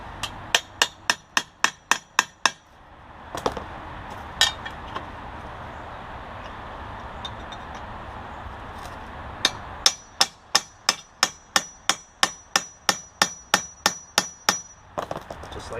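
Hammer blows drive a drift tool against a front control arm bushing, a fast run of sharp metallic strikes at the start, a few scattered hits in the middle, then another long steady series of loud, close impacts.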